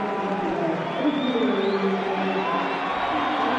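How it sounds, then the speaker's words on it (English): A home crowd at a cricket match roars and cheers in a steady, sustained wash of voices, with a commentator talking over the noise. "The home crowd have something to cheer."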